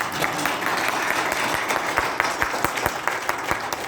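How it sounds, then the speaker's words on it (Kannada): An audience at a program in Hubli claps steadily, a broad wash of applause with several sharp, distinct individual claps standing out nearby. "ಹೊಡೀರಿ ಸರ್ ಚಪ್ಪಾಳೆ."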